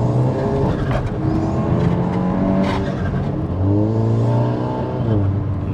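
A tuned 520 bhp Cupra estate car engine in comfort mode hums steadily with a throaty intake note, rising and falling in pitch as it revs, continuous and fairly close, with no pops on the overrun.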